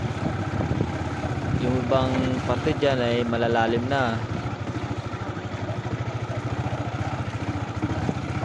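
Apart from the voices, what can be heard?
motorcycle riding over muddy unpaved path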